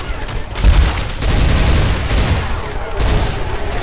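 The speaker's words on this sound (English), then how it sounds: "I didn't know there was fireworks in this game" Rapid popping and crackling bursts rumble in dense clusters, like fireworks going off nearby in Left 4 Dead 2's Dark Carnival, loud with booming low thuds.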